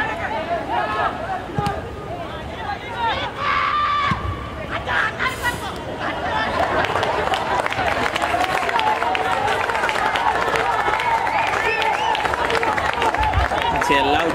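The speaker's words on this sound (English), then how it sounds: "It's a loud cheer coming in for the Peterites from the crowd." A large soccer crowd roars and cheers loudly for the Peterites at a Milroy Perera Memorial Trophy match, the noise swelling into a sustained, dense wall of voices after scattered shouts and claps.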